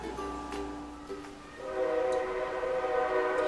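A passing train sounds its horn in long sustained blasts with steady harmonic tones, and the rumble of the passing cars builds behind them. It is fairly loud, and no one speaks.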